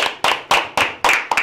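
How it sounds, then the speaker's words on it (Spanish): A few sharp, separate audience claps ring out in a short, uneven burst, close and fairly loud, welcoming a guest. "Venimos y le damos un fuerte aplauso a nuestro invitado, Lee Pollo."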